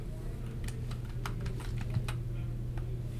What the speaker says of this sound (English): You can start typing your username again